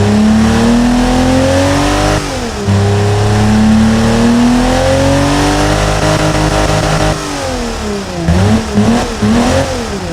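A modified BMW M30B35 inline-six in the Automation game revs loudly and continuously, its pitch climbing and dropping through several rev sweeps, with a sharper burst of revving near the end.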